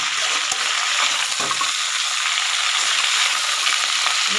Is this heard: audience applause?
no